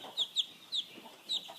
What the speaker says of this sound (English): And this is a broiler chicken.